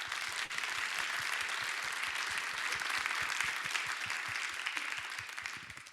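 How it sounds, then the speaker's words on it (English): An audience applauds a panel at a climate policy forum, a dense and fairly distant wash of clapping that holds steady for several seconds and then tapers off near the end. "Please give them a round of applause."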